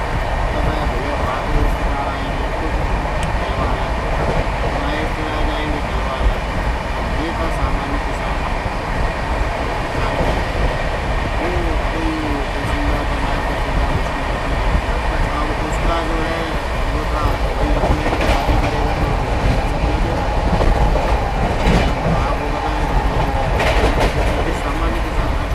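Steady, loud rumble and clickety-clack of a moving express train, heard from on board, with the Magadh Express passing alongside on the next track near Daudkhan railway station; continuous without clear gaps.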